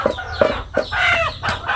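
Several chickens cluck close by in short, irregular bursts, with one drawn-out squawking call in the middle.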